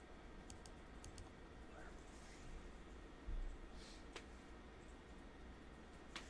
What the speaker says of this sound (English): just keep typing